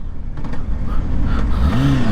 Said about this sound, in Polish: Szybko nam się koło zablokowało, spoko.